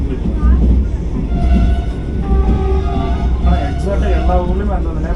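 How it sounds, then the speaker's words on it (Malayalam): A train pulls out of a railway station with a steady low rumble and rolling wheel noise, nearby and fairly loud, while voices talk over it. "ഏതോ ഒരു വണ്ടി ഡിപ്പാർട്ട് ചെയ്ത് പോകുന്നുണ്ട്."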